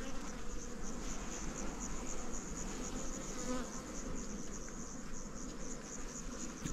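Honeybees buzz steadily around an opened hive, a continuous close drone with a faint voice briefly in the background.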